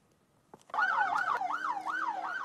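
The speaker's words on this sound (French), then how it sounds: "Une ambulance de secours médicaux en pleine intervention sur le site du Dakar de Médina Gounass." Ambulance siren during a medical emergency call at the Médina Gounass pilgrimage site in Senegal, a loud, close wailing tone that rises and falls in a steady rapid cycle after a few brief knocks.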